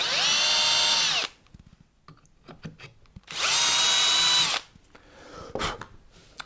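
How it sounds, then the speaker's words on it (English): A power drill whines loudly in two sustained bursts, each about a second or more, boring into a wooden guitar neck, separated by quieter clicks and handling noises close by. "I'm going to drill into the neck."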